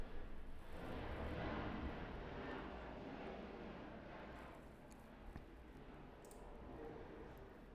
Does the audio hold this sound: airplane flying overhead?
yes